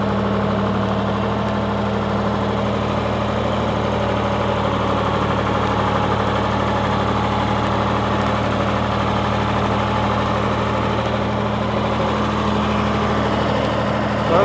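Lawn sprayer engine droning steadily through a field turn, a loud continuous low hum with a constant tone and no pauses, no talking.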